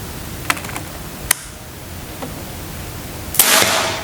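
A Daystate-style PCP air rifle firing Hercules pellets at a target about 45 meters away gives a few sharp, isolated snapping shots spread across a few seconds, followed by a brief louder burst near the end.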